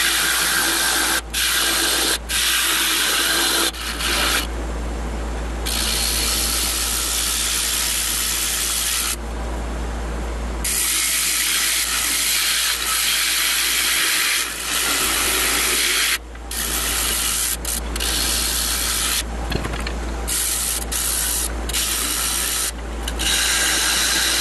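Wood lathe turning a wooden platter while a tool cuts a tenon, a steady close rasping, scraping hiss with brief pauses where the cut lifts off, over a constant low motor hum, no talking.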